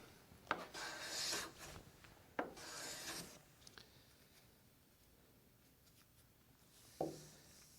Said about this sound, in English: To plane this board, we're simply going to start on the left-hand side and move our way across to the right, doing overlapping strokes